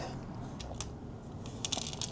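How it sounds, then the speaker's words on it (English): Dried, crunchy gouache paint cracking and crinkling as an old palette is pried open, with a few brittle crunches and sharper snaps toward the end, close and moderately loud. "Very dried, crunchy gouache palette, which I think I'll keep."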